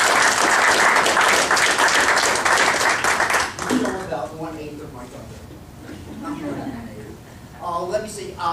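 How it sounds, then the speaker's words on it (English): Loud, dense audience applause for a guest speaker fills the room for about three and a half seconds, then fades out quickly as someone starts talking. "Please give Dr. Huyler a round of applause for coming."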